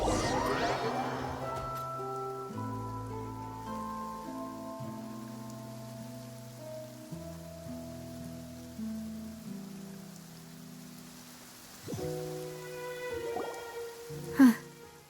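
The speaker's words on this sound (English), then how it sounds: "It's been raining non-stop for a few days now." Steady rain falling in the video game Genshin Impact, a soft continuous wash heard under sustained background music, with a sharper knock or impact near the end.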